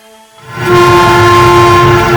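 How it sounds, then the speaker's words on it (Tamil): A train horn swells in quickly and holds loud and steady, with the rumble of the approaching train growing underneath. "அப்போ தூரத்து ரயில் வர சத்தம் கேட்டது."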